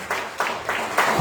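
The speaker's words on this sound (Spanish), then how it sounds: "Den un aplauso al Señor." A church congregation at a worship service claps briefly, a few soft uneven bursts of hand clapping at a moderate distance with no voices.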